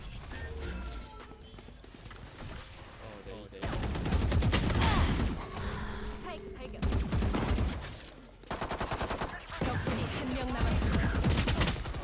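Rapid bursts of gunfire in the shooter game Valorant, clattering in dense volleys with short pauses between them, loud and close, while players talk over the shooting.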